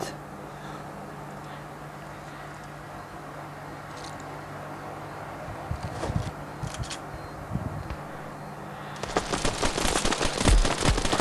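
Gunfire in the mobile shooter Standoff 2: a few scattered sharp shots in the middle, then a dense, loud burst of rapid fire near the end over a steady game background hum.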